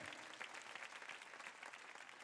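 A church congregation applauds with steady, dense clapping that holds for a couple of seconds at moderate distance, with no talk over it.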